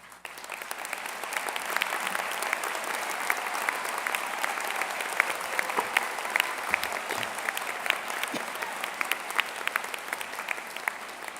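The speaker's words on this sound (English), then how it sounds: "please stand and receive our applause" Sustained audience applause at a university arts college graduation ceremony, honoring students graduating with honors; steady dense clapping fills the hall for over ten seconds with no talk.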